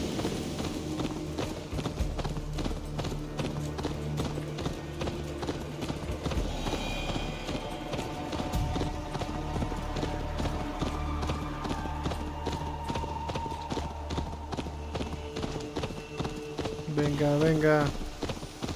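Horse hooves gallop in Assassin's Creed Valhalla, a steady clip-clop running under a music score with someone talking over it throughout.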